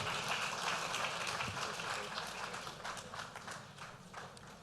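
At a business lunch in Lagos, an audience applauds as a speaker comes up to the stage. The clapping is faint and distant, a steady wash that slowly thins out.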